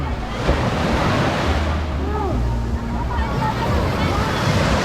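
Large ocean waves break and roll continuously onto the beach at Jap Beach Resort, Gumasa, Sarangani Province, loud and close with wind buffeting the microphone and a voice speaking over the surf.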